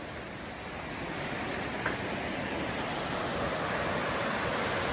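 White water rapids on the Feather River below a bridge in a deep gorge, a steady broadband rushing roar heard from above, constant and moderately loud.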